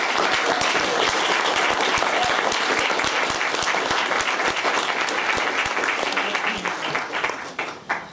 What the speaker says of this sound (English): So can we just please give her a round of applause?